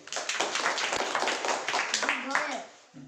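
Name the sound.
children clapping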